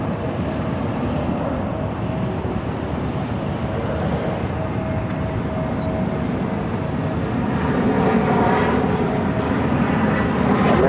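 A Southwest airliner takes off from runway 25 right at Phoenix Sky Harbor, its jet engines a continuous broad roar that builds slightly louder toward the end.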